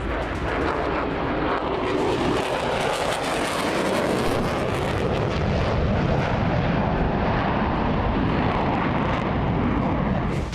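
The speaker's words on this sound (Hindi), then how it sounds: "आईडीएफ के 100 से ज्यादा फाइटर जेट्स ने बोला हमला।" The loud, sustained roar of Israeli fighter jets flying overhead during a strike on Iran, a steady rushing drone throughout.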